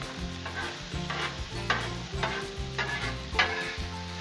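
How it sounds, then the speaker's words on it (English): Jalapenos roasting on a Blackstone griddle in chorizo and bacon grease, a close, steady sizzle with regular scraping stirs punctuating it every half second or so. "Now the jalapenos are cooking in it."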